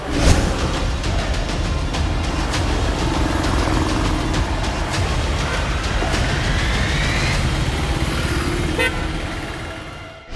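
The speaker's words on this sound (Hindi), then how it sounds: "लगातार रेत से भरे हुए ट्रैक्टर धड़धड़ाते हुए चले जा रहे हैं।" Heavy vehicle traffic streams steadily past on the Morena highway, with sand-laden tractors rumbling by in a dense, continuous roar and a car horn tooting near the start.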